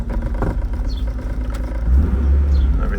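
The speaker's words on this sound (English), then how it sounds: "I'll go ahead and turn the vehicle on here so you can see everything updating." A Nissan car engine starts up close by with a cranking clatter, then settles into a loud, steady low rumble that builds during the last second or so.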